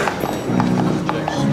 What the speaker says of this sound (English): two guys and a horse walking to a hotel. This is a pony.